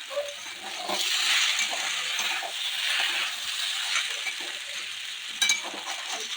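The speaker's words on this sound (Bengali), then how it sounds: "এবার এটাকে আমি ম্যাকরোনির মধ্যে দিয়ে ভালো করে নাড়িয়ে নাড়িয়ে মিশিয়ে নেব" Macaroni is stirred in a hot pan with chili sauce, soy sauce and tomato sauce, giving a steady close sizzle with scraping and stirring movement throughout and a brief louder clatter near the end.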